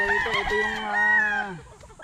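A young gamecock stag crowing once nearby, a loud drawn-out call that falls away at the end, with soft clucks at the start.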